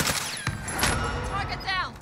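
Automatic gunfire in a first-person shooter video game, short sharp bursts over about two seconds with game sounds and a voice in the background.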